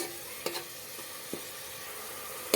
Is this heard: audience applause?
no